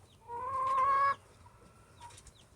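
A newly hatched duckling gives a loud, high, sustained peep close by, followed by fainter chirps.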